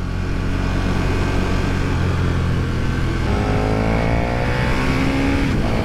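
A 2020 KTM Super Duke R motorcycle accelerates hard in second gear on a road, its engine roaring loud and close with rising pitch as revs climb.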